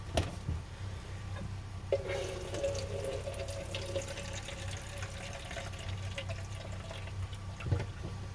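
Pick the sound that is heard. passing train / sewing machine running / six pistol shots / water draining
water draining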